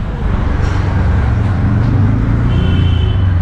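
Road traffic passing below a lookout in Shrirampur, a loud, steady low rumble of vehicles with a faint high tone late on.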